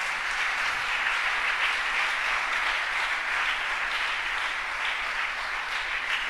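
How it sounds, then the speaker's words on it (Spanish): Sustained applause from a church congregation fills the space evenly, a dense wash of many hands clapping at a steady level throughout, with no voices standing out. "Denle un aplauso al Señor por eso."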